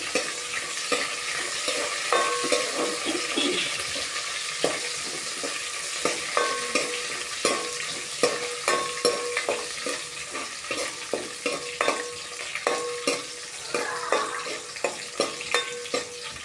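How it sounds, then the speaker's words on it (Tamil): Onions frying in hot oil with popped mustard seeds and curry leaves for a snake gourd and moong dal kootu, steady close sizzling with regular scraping stirs of a spoon against the pan. "கடுகு பொரிஞ்சது வெங்காயம் சேர்த்துக்கோங்க"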